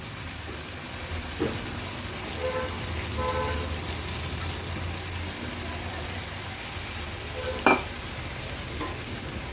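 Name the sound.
stirring fish and vegetables frying in masala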